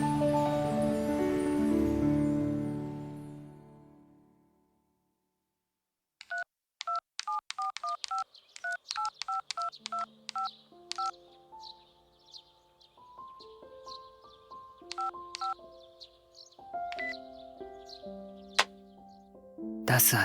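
A mobile phone keypad beeps as someone types an email, with short bright tones tapped in quick irregular runs and sustained key notes. A fading tone comes first and a pause follows, then the tapping goes on alone.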